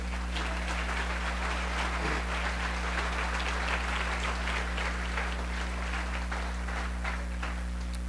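A church congregation applauds in a steady, sustained burst of many hands clapping, dense and continuous throughout, with a constant low electrical hum beneath it.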